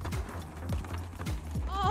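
Hooves clip-clop in an even trotting rhythm, fairly close, with a faint high squeal or whinny-like sound at the very end.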